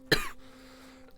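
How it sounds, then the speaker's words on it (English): A single sharp, close cough from a man at his computer, followed by a brief throat-clearing rasp and then a quiet background hum. "Cough gets worse and worse."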